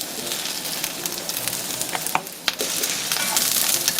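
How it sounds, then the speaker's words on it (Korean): Scallions stir-fry in hot oil as the first step of a squid stir-fry, a loud, dense sizzle that runs continuously, broken by a couple of quick scraping stir strokes midway. "파향이 나도록 볶아주세요."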